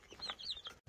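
Chickens about to be fed cluck in a short burst of soft, overlapping clucks and squawks, close by in a farmyard.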